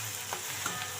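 Whole spices, bay leaf and garam masala, crackling in hot oil in a home kitchen; a brief, steady close sizzle with no voices.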